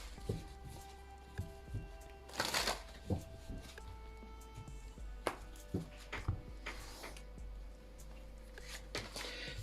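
Oracle cards are shuffled by hand during a tarot-style reading: soft riffling and sliding bursts with light taps, quiet and close, with one louder flurry partway through and no talking.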